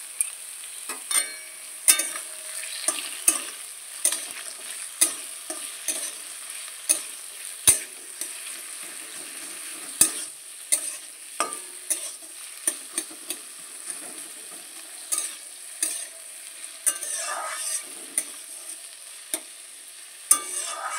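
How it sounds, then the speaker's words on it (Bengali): Potatoes fry in hot oil tempered with black cumin seeds, a steady low sizzle broken by repeated sharp clicks and scrapes of a spatula stirring against the pan, close and without talk. "তেলটা গরম হওয়ার পর কালো জিরে ফোড়ন দিলাম, আর তারপরে দেখো আলুগুলো আমি দিয়ে দিচ্ছি"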